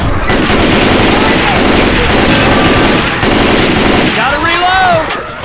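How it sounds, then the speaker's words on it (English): Loud, dense automatic gunfire from the Left 4 Dead 2 video game, with rapid continuous bursts from several weapons overlapping in a close, steady barrage, ending with ringing metallic tones as the firing thins out. "Why the hell you guys keep shooting me?"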